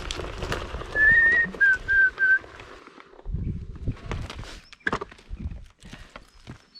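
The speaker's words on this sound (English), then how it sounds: "That would be a honey eater, I reckon." A honeyeater gives a few clear, whistled calls in a short sequence, fairly close, followed by footsteps and scattered knocks nearby.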